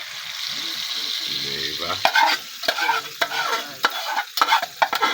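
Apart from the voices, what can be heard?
egg being added and fried in a pan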